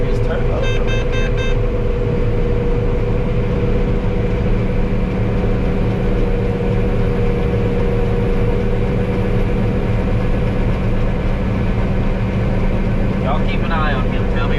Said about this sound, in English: I can hear his turbo from in here.